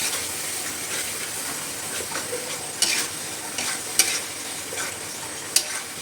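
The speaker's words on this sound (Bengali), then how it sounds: "গ্যাসের ফ্লেমটা বাড়িয়ে দিলাম, দিয়ে এবার মশলাটাকে ভালোভাবে কষিয়ে নেব।" Spice masala cooking in a pan with a little water over a raised gas flame: a quiet, constant sizzling hiss with a few sharp scrapes of stirring.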